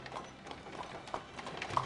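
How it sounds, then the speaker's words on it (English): Hooves of a horse pulling a carriage clip-clop in a steady, fairly faint rhythm, a string of light knocks spread evenly over two seconds with no voices. "when people still relied on the horse-drawn carriage"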